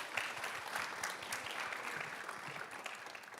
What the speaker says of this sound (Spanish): un fuerte aplauso para estos artistas